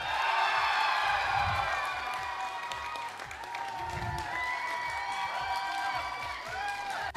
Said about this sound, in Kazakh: Перизат шеңді дегілер шапалақ!